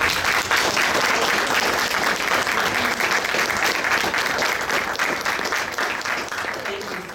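Sustained audience applause during a special presentation honoring the Union Pacific 844 steam locomotive team, a dense, steady wash of clapping filling the room at even loudness throughout.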